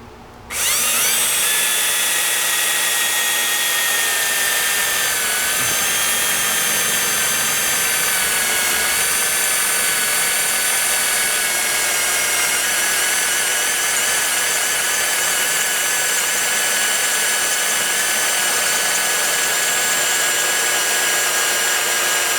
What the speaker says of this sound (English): make sure that your drill stays parallel in both directions, so you wind up drilling through in the correct location up top